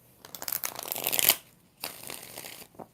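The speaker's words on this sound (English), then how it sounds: "Four shuffles." Tarot cards shuffled by hand in two bursts of riffling and flicking, the first longer and building to a loud snap, the second shorter after a brief pause, ending with a single light tap.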